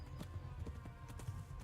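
Horse hooves in Kingdom Come: Deliverance clop in a steady galloping rhythm, quiet and low, with a faint background hum beneath the repeated thuds.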